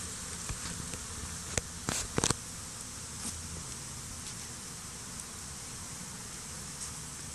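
Bees buzz in a dense, steady drone around a hive tucked under a tree stump, heard close with a few brief louder passes over the constant hum.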